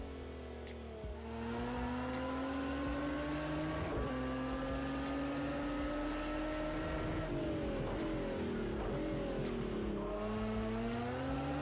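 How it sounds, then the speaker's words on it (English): A GT3 race car engine in a video game, heard from inside at Bathurst, revving hard and rising in pitch through repeated gear changes, loud and continuous with brief dips between shifts. "Now let's get a sit inside the car and have a listen to that engine."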